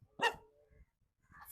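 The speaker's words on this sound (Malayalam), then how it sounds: "എന്താ പട്ടി" A dog in a village gives one sharp, loud bark close by, followed by a brief low huff and quiet background rustle.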